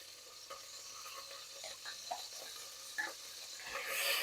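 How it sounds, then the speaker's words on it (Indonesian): Spice paste sizzling and being stirred in hot oil in a home kitchen, a soft steady crackle with light scraping strokes that builds toward the end, no talking. "ini sudah saya siapkan minyak ya untuk menumis bumbunya. Masukkan aja langsung."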